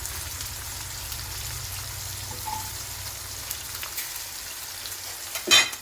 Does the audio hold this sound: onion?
yes